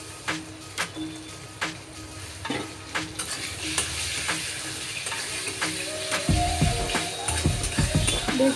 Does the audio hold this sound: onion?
yes